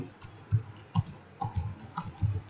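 Computer keyboard keys are pressed for an Alt+Enter shortcut in Excel: a few soft, close clicks and taps in an irregular rhythm, quiet and alone.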